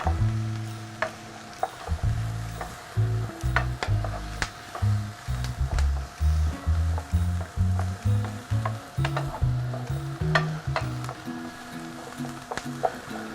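Onions fry in a pan for lasagne, giving a steady sizzle. Rhythmic scraping and stirring strokes repeat through the middle and later part, close and moderately quiet.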